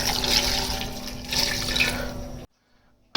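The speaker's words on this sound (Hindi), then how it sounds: "ये 1 लीटर पानी हम साथ ये शामिल कर रहे हैं।" One litre of water pours into a cooking pot of palak beef ghosht with ground coriander and ginger powder: a loud, steady rushing splash for over two seconds, then a sudden stop and near silence.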